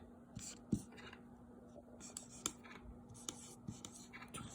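Pencil scratching a number onto paper, short faint strokes and taps close by under a steady low hum.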